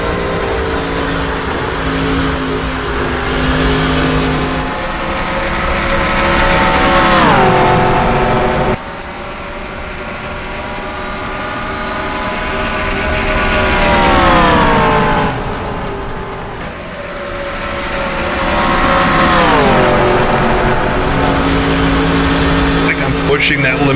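Mid-2000s NASCAR stock car engines in the NR2003 racing game howl loudly, rising and falling through repeated throttle and gear cycles as the cars duel around the track.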